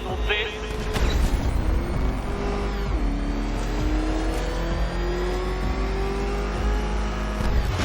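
The Batmobile's engine roars loud and close in Batman Arkham Knight, revving with rising and falling pitch as it accelerates through a race course, while a voice talks over it.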